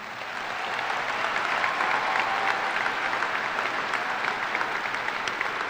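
Dense, steady applause from a large audience at a 2017 Seaman High School graduation ceremony, rising quickly and holding at full strength throughout, with no talking over it.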